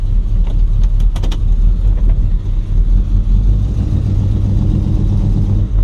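A 1973 Oldsmobile Hurst with dual exhaust idles and rumbles steadily while reversing, a deep, close low-pitched engine burble with a few brief clicks early on and no talk.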